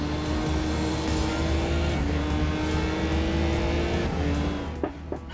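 Race car engine in the PC racing game GRiD drones steadily at high revs with a sustained harmonic whine, loud and continuous, easing slightly near the end amid faint tire and track noise.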